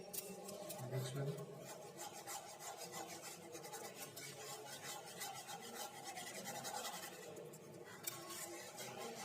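White sauce for vegetable au gratin is stirred in a pan, giving a continuous scraping and rubbing sound with rhythmic strokes, close and moderately quiet.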